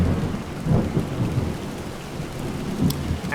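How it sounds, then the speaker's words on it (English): Steady rain with low rumbling thunder on a plague-stricken island in the Montague's Mount video game, a continuous dense downpour with deep rolling rumbles swelling and fading. "unfortunately it rains a lot of the time on this island"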